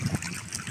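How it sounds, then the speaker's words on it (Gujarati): Irrigation water runs along a field channel beside cotton and sorghum crops, a brief steady rushing trickle heard up close with no speech. "આ પાણી જાય છે"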